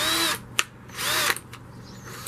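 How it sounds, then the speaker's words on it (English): A pneumatic tool torques a bolt on a Jeep in two short whirring bursts with brief clicks between, close and fairly loud with no talking. "If you use a pneumatic tool, I recommend to lower it to the lowest rate, so you're not going to end up stripping the bolt"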